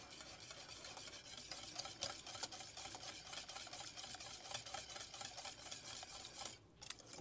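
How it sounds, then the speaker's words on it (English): Greek yogurt being whisked in a bowl, a quick, continuous scraping swish with rhythmic strokes, close and steady, with no talk. "Okay, just whisk that yogurt in there."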